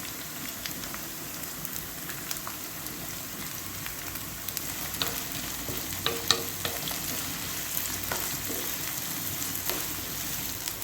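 Chopped onions sauté in a pan with a steady, close frying crackle and scattered stirring scrapes throughout, part of a bottle gourd kootu preparation; no one speaks.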